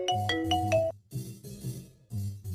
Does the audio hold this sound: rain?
no